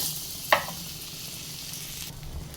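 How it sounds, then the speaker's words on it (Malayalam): Butter melting and sizzling in a hot pan, a steady soft crackle with one sharp click near the start; no voices. "ബട്ടർ ഒന്ന് മെൽറ്റ് ആവട്ടെ കേട്ടോ"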